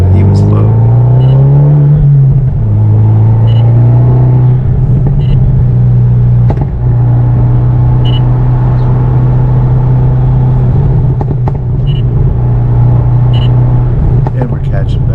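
A car engine drones steadily at high revs, rising and settling as it laps the Circuit of the Americas race track, close and loud, with occasional thumps and faint voices.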